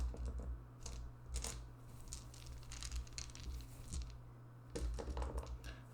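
Small dice, including D4s, rattle and clatter as they are handled and counted on a computer mat, with close, soft irregular clicks and shuffles in uneven clusters.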